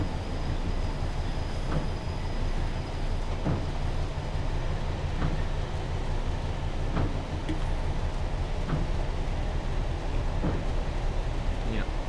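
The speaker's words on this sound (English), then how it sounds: "Rain absolutely tipping it down outside" A DRS Class 66 hauling nuclear flasks on the Riviera Line in Train Simulator during heavy rain: a constant loud rumble and hiss with regular rail-joint clunks every second or two.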